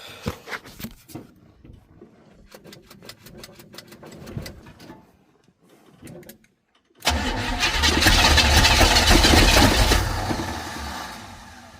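A 1955 Buick Super with a big-block engine cranks in repeated bursts with short pauses while it struggles to pick up fuel, then fires and roars into a loud, steady run close by.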